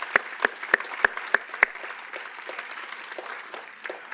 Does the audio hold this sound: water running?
no